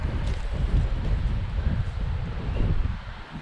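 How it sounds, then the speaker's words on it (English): Strong wind buffets the microphone outdoors at an RC truck bash with a Traxxas Sledge, producing a continuous low, rumbling roar that surges slightly and then eases near the end. "Sorry if there's wind noise, guys, but it's a windy day."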